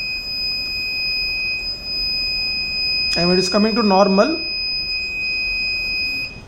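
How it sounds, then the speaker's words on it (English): A steady, high-pitched electronic buzzer tone from a battery-management system alarm sounds continuously throughout, with someone speaking briefly over it partway through. "we'll get the audible alert through the buzzer"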